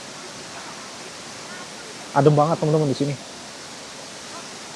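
The Coban Rondo waterfall in Malang roars steadily close behind, a broad constant rush of falling water, with someone speaking briefly over it.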